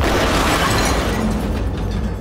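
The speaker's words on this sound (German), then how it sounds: "Zünd den Knaller." An explosive charge detonating in Cyberpunk 2077: a loud, dense roaring blast that fills the whole clip and slowly tails off, with no voices.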